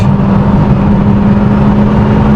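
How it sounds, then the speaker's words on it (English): Modified MG6 turbocharged engine held at a loud, steady drone with a strong low hum, heard from inside the car during a rev-matched downshift. "Downshift, rev match,"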